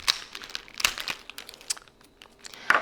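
Scissors snipping through several small pieces of orange glitter paper at once, with crisp crinkling cuts in short bursts, the loudest near the start and end.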